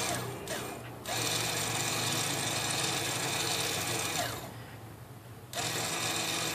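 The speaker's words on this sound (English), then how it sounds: "you can hear that motor turning on" The electronic rear brake caliper motor of a 2008 Volkswagen Passat whirs steadily up close, running for several seconds, briefly dropping away, then starting again.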